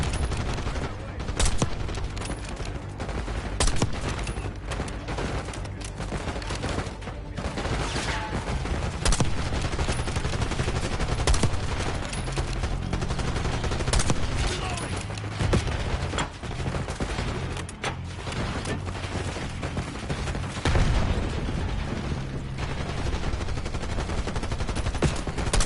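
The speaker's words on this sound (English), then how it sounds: "Laying cover fire!" Sustained gunfire in Call of Duty: Black Ops 6, dense automatic bursts and single shots rattling almost continuously at high volume through a busy combat mix.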